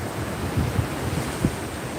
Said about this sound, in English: Waves are pretty flat